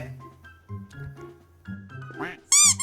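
Cartoonish toy duck quacks in a Christmas-themed elf toy factory video game, several short nasal quacks in a row ending in a loud, bright burst, with game music tones underneath.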